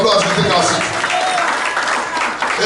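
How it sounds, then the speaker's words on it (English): A church congregation applauds after a prayer, a loud dense wash of clapping throughout with voices mixed in beneath it. "Let's give Jesus a round of applause as we take our seat."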